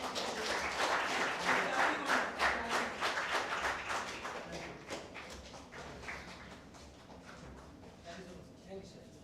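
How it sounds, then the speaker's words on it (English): Audience clapping at an energy conclave session, a dense round of applause that is loudest at first and then thins and fades over several seconds, with a few scattered claps near the end. "So, give him a big clap."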